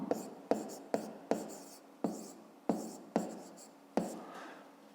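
Pen or chalk writing a math solution, with about ten crisp, evenly spaced strokes and taps, each sharp onset trailing off into a short scratch, close and clear with no voices.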